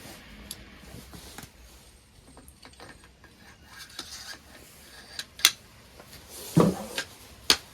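A bolt is slid into the receiver of a New York–compliant AR-15 rifle being converted to bolt action, with the firing pin reinstalled. Quiet metallic rubbing and scraping leads to a few sharper clicks and clacks near the end, with no talking.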